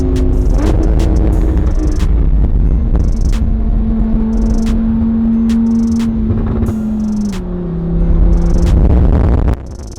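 A Lamborghini's exhaust rumbles steadily from inside the low car, a loud droning hum that shifts pitch slightly as it holds, with occasional sharp clicks and knocks over it and a brief surge near the end.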